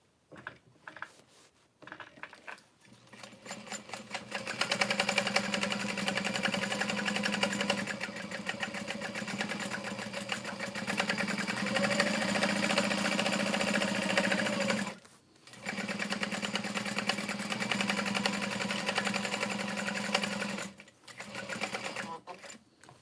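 A sewing machine bastes layers of a bowler hat together in long steady runs of rapid stitching, close and prominent, broken by brief pauses, with faint handling noises in the gaps.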